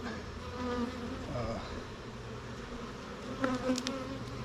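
Bees buzz around an opened hive, a dense close drone of many insects that holds steady throughout, with a few bees passing nearer and swelling briefly louder.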